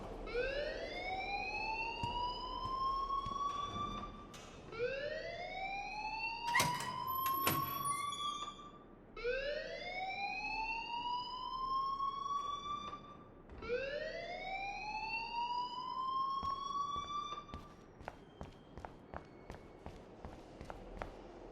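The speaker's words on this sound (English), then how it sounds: "please turn off that alarm since that's your job" A school fire alarm in the Life is Strange video game wails in long rising sweeps, repeating steadily about every four seconds, loud and continuous with faint footsteps and clatter beneath.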